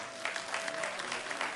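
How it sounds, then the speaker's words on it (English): A theater audience at a 90th birthday celebration applauds steadily, dense clapping with cheers filling the room as the guest of honor comes down the aisle. "the crowd is cheering for her and beginning to stand"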